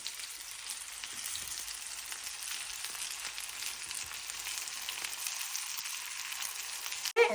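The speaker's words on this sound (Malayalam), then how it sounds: "ഇനി നമ്മൾ രണ്ട് മിനിറ്റ് ഇതൊന്ന് ഫ്രൈ ചെയ്തെടുക്കണം" Spice-marinated sea bream frying in a hot pan gives a steady, fairly loud sizzle that holds without a break, then a short clatter right at the end.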